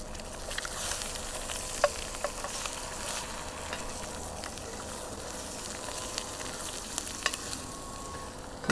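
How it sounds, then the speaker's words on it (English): Eggs scrambling in a generous amount of butter in a skillet make a steady, close crackling sizzle, with a few sharp clicks and pops along the way. "like to scramble them in a skillet."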